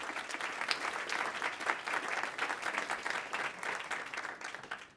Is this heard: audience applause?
yes